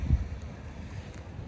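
Strong wind blows outdoors by a hotel garden in the United States, a low, rumbling buffeting against the microphone with a brief gust at the start and no talk.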